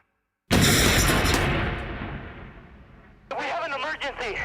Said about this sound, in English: Just as the van started moving, there was an explosion.